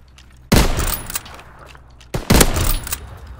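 Two sharp, loud rifle shots roughly 1.7 seconds apart in a Call of Duty: WWII snipers-only match, each with a brief echoing tail and quiet between them.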